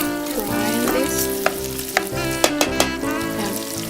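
Fat and meat fry in a pan on a gas stove, a steady close sizzle and crackle with a few sharp pops and spatters throughout.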